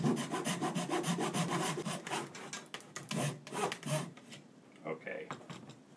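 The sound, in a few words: handsaw in miter box test-cutting wood for tenor guitar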